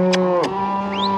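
Cattle moo on a ranch during pregnancy-testing day, a loud, close, sustained low call whose pitch dips partway through, with small knocks and a faint higher sound behind it.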